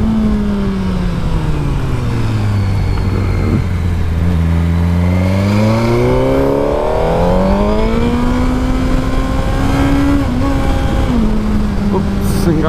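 A Suzuki GSX-R motorcycle on an Alpine tour, revving loud and close as the engine pitch climbs, drops when a gear shift is missed, then rises again, with a rider's voice occasionally over the steady roar.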